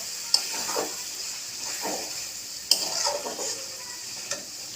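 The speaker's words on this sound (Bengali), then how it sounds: "মশলাটা ভালো করে কষানো হয়ে গেছে" Spice paste sizzles steadily in hot oil in a pan for potato curry, while a spoon scrapes and stirs through it, with several sharp metallic clinks against the pan.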